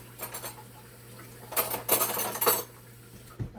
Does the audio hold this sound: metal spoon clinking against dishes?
yes